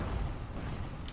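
Enemies in Dark Souls 2 spew fire in a dense, continuous roaring rumble, a loud, low, breathy blast that holds steady and never fades for the full second.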